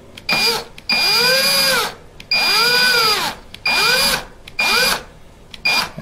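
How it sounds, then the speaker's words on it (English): A power drill bores into wood of an electric guitar body in four bursts, each spinning up, holding a steady whine, then winding down, with short pauses between; close and loud. "I'm holding my drill up straight"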